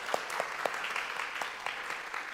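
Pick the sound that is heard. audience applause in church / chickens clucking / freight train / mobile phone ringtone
audience applause in church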